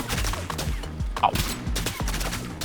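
Rapid bursts of gunfire from the video game Rounds, loud and close, repeating in a quick fusillade rhythm of sharp shots.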